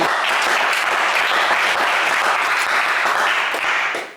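Studio audience at a French television game show bursting into dense, loud applause for a contestant, a sustained even roar of clapping that holds for about four seconds before quickly fading out.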